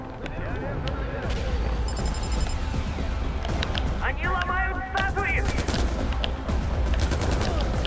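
Dense gunfire fills a Far Cry 4 gameplay battle, with sustained automatic bursts and rapid shots rattling throughout at high volume and someone talking over the shooting.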